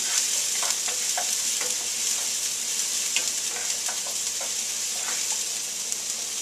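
Garlic, onion and celery fry together for a vegan mothuk filling, making a loud, continuous sizzle with intermittent stirring clicks and no speech.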